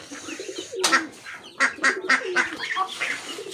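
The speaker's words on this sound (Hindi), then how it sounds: "ये हमारी बतख है" Several birds call in a noisy cluster, with repeated honking duck quacks rising over a busy background of other fowl.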